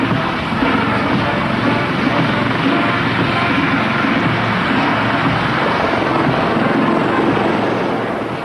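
Loud, steady roar of an Army Air Corps helicopter close by during a helicopter parade at Middle Wallop, continuous throughout and easing slightly at the end.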